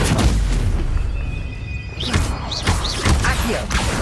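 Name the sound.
Stupefy stunning spell hitting in video game Hogwarts Legacy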